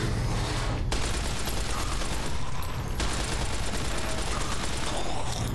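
Sustained rapid submachine gun fire in Fallout: New Vegas, a dense continuous burst filling the whole stretch, loud and close with a brief break near the start.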